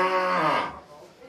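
A cow or calf on a farm in Jeongeup, Korea, lets out a single loud, drawn-out moo that fades away within about a second.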